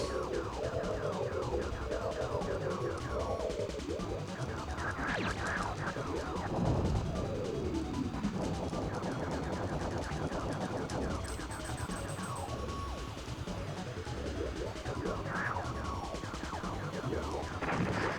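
Missiles homing in on the player's ship in the SNES game Star Fox, amid a dense, loud barrage of booming blasts, warbling alarm-like tones and swooping pitch sweeps that continue without pause for the whole stretch, with no voices.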